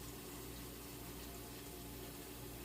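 Water pours steadily into a cooking pot while food is prepared for a senior diabetic dog, a continuous close rushing splash that holds even throughout, with no voices.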